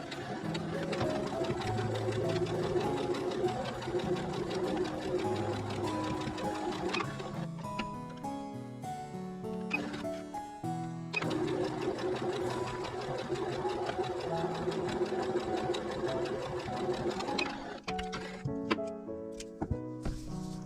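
A sewing machine stitches patchwork fabric pieces for a small handmade pouch, a steady close mechanical whir of continuous stitching with brief pauses and restarts.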